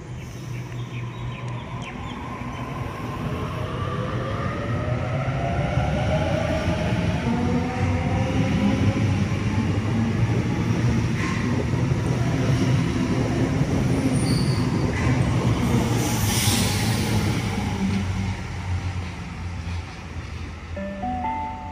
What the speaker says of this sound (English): I'll see you when the next train arrives, or when this train departs